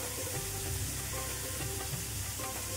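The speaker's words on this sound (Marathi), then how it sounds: "कांदा टोमॅटो छान परतलाय।" Onion and tomato sauté for upma in a pan, producing a steady, fairly soft sizzle with faint stirring movements and no talk.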